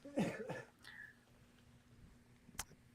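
A single short cough close by, followed by quiet room noise and a faint click near the end.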